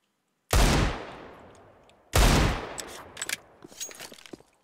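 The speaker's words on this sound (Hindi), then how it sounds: "पहला शॉट मिस हुआ तो दूसरा फाइनली कनेक्ट" Two loud, sharp Desert Eagle pistol shots in Counter-Strike: Global Offensive, about one and a half seconds apart, each with a long ringing decay, followed by smaller clicks and clatter.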